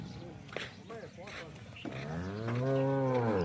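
A cow at a farm with dairy cows lets out a long, loud, close moo in the second half, following a stretch of people talking nearby.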